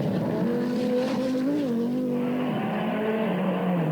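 A rally car races over a hill, its engine note climbing and falling as it skids, loud and continuous with a rising then settling pitch.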